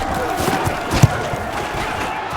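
A steady roar from a stadium crowd rises around a fourth-down play in Madden NFL 20, during a preseason game between the New Orleans Saints and Los Angeles, with one brief thump partway through.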